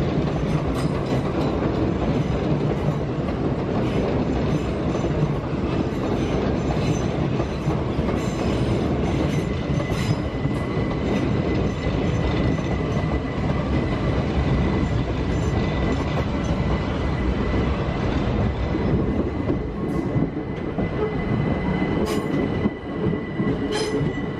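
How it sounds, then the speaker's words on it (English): A train rolls through Clapham Junction, a continuous loud rumble of wheels on rails with clickety-clack and occasional squealing, sustained throughout without voices. "there's no shortage of trains at all"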